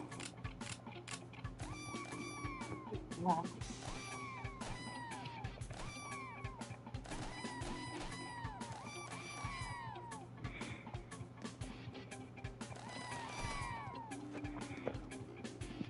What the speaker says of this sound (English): You literally hold a cat by the tail who's holding a gun, and he meows when you shoot